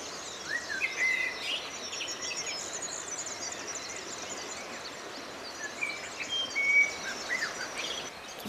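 Small birds sing and chirp at dawn beside a river on a brown trout fishing outing, faint scattered calls over a soft bed of insect hum, fairly distant and with no talking.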